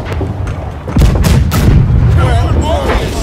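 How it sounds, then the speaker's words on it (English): Ship cannons fire in a video game, a heavy booming blast that lands about a second in and rolls into a sustained, rumbling roar, with a few sharp cracks layered on top. A low rumble sits underneath. "Left side, all cannons fire."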